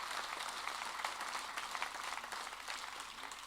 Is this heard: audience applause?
yes